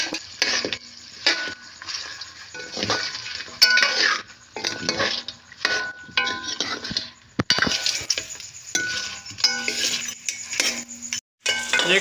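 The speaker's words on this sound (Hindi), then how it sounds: "1 चम्मच हमने ऑयल डाल के गोश्त को अच्छी तरह से भून लेंगे" Mutton frying in oil for namkeen gosht, with a spoon scraping and clinking against the pot in uneven bursts over a faint sizzle, close and moderately loud with short pauses between stirs.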